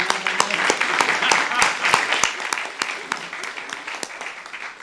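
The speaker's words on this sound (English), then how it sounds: "And now we can welcome and applaud them all." Audience applause, a crowd clapping steadily with a few sharp, louder claps standing out, moderately close and continuing throughout.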